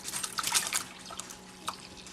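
Curds and whey from farmer cheese splatter into a cheese towel, producing wet drips and liquid splashes, busiest early then tapering to scattered drops, close and fairly quiet, with no talk.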